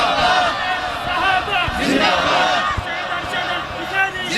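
A crowd at a wedding gathering led by a cleric loudly chants Subhan Allah together, a dense roar of many voices filling the space, with spoken words mixed in.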